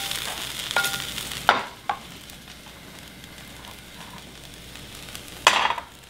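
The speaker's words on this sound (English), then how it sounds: "out of the skillet into the bowl with the onions." Cooked chicken for fajitas scraped out of a skillet into a bowl with onions: a faint background sizzle with a few sharp, close scraping clacks of utensil on pan, spread apart.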